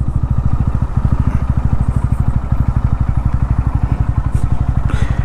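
A motorcycle engine idles near Konark Sun Temple in Puri, a steady, fast, loud putter that goes on without a break, close by and with no voices over it.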